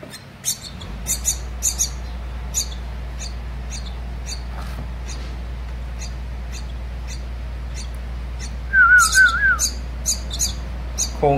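Myna chicks in a nest on a crawler crane give short repeated high chirps and squeaks, scattered through a steady low engine drone, with a louder cluster of calls near the end.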